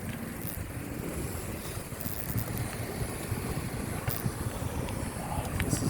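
Wind buffeting the microphone while bicycling along a Sanibel Island, Florida beach, a continuous low rumbling roar with faint crackles, steady and fairly quiet, with no talking.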